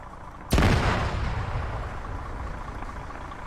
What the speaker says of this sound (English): That's going to be very messy because of the angle of the rock, so it might explode.